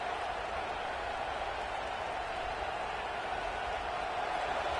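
Steady roar of a stadium crowd at a Georgia Tech versus Notre Dame college football game, a dense, continuous wash of distant cheering and noise with no distinct voices.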